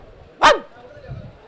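A single sharp dog bark, close and loud, followed by a low faint murmur of background voices.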